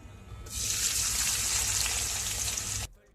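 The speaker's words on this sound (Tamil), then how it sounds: "கடாயில் எண்ணெய் காய வச்சுருக்கிறேன். 2 பெரிய வெங்காயம் வெட்டினதை அதில் போடலாம்." Two chopped large onions drop into hot oil in a kadai and break into a loud, steady, bright sizzle that holds for a few seconds before cutting off abruptly.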